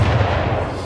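Cannon fire in the Anno 1800 strategy game, a dense low rumble of booming shots rolling continuously through a short burst of battle noise, with no voices.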